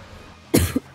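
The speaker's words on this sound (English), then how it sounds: "I wish this cough would go away." A single sharp cough from someone who is sick, loud and close, with a short second hack at the end, set against a quiet room.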